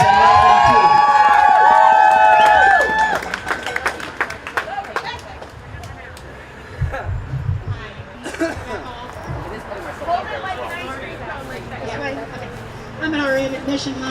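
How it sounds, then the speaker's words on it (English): A crowd at a live rally cheers and claps, with a loud shout and whoops at the start and then scattered applause and babble under nearby voices. "give her a round of applause and welcome too."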